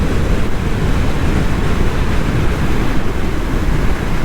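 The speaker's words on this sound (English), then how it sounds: "It is a little windy today." Strong wind roars across the microphone while riding a Vitacci Tank 200 Deluxe scooter, a loud, constant buffeting rush that fills the whole stretch with no speech.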